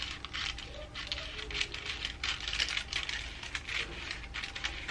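Scissors cut straight through a paper pattern for a cowl-neckline bodycon dress, a close run of crisp, rustling snips and paper crackle in a quick, uneven rhythm with no talk.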